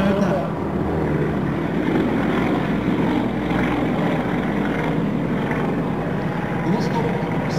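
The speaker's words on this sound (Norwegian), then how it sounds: "Se vestover, nå kom 3 fly mot oss" Three Yak-50 propeller aerobatic planes flying at the Flesland airshow in 2005, a steady droning engine roar that stays loud and fairly close throughout, with a commentator talking over it.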